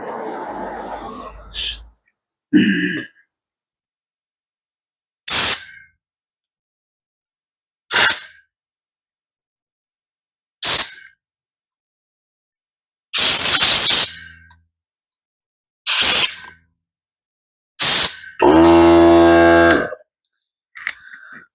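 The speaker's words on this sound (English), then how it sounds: "I'll blow out the gas lines as well" Short, loud bursts of compressed air hiss out through the gas lines of a PTO carburetor in repeated blasts separated by silences, ending with a longer, wavering squealing blast.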